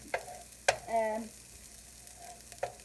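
Browned celery, onions and garlic sizzle quietly in a pan for barley and apple stuffing, with a few sharp utensil clinks and a brief tonal scrape, fairly near and low in level.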